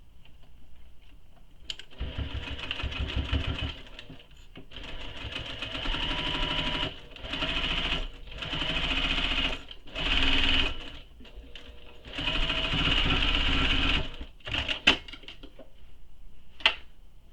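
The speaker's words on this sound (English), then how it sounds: "and then we'll sew this opening closed" A sewing machine stitches the opening of a tote bag pocket closed, running in several loud, close bursts of rapid whirring with short pauses between, then a few faint clicks and handling sounds at the end.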